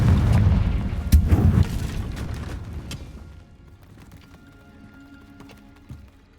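A Confringo fire spell blast in Hogwarts Legacy: a loud burst of crackling, booming impacts that decays into quieter rumbling tails, with a few faint thuds trailing afterward.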